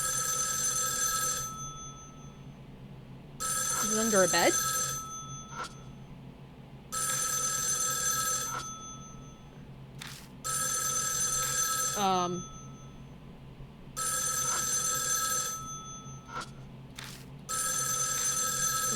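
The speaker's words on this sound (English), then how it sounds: "Suddenly the phone rings." A telephone rings in the horror video game Spirit Hunter: NG, several loud repeated bursts separated by short pauses, while a person speaks quietly between and over the rings.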